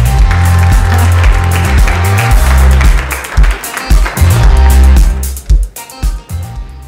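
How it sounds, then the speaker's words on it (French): An audience applauds at a conference on training and digital education, loud dense clapping that gradually thins out into scattered claps near the end. "Merci, les applaudissements"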